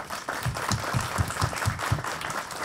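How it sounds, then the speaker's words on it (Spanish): An audience of university students and faculty at an academic seminar applauds for about three seconds, a dense spread of clapping punctuated by several louder, regularly spaced claps from someone nearby. "creo que un aplauso para todos"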